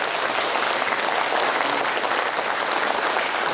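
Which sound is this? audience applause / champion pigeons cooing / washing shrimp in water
audience applause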